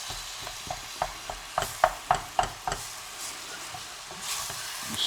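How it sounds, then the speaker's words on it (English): Lasagne meat sauce browns in a sizzling pan while a utensil stirs it, making a series of close, rhythmic scraping knocks over a steady soft fry. "Stir it all in there, get it all nicely browned off in the mix."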